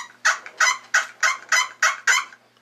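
A push-button turkey call produces seven evenly spaced, clucking yelps in a brisk regular rhythm, each note sharp and close, with nothing else audible.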